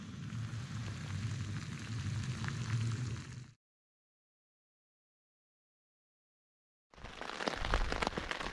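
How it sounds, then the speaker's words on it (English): Steady rain patters on a tipi tent at a summit wild camp, a constant hiss that cuts out into silence, then returns heavier and closer. "I can see rain in the distance"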